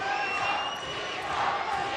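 Arena crowd at an EFC MMA fight in Pretoria, a steady massed roar of cheering and shouting that swells slightly mid-way, fairly loud and continuous.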